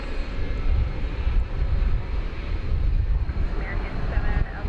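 An Airbus A300 is pushed back at DFW Airport, a steady, loud low rumble of aircraft engines and ground noise with some wind buffeting, continuous throughout, with a person talking over it.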